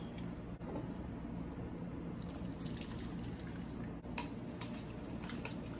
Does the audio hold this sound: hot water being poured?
yes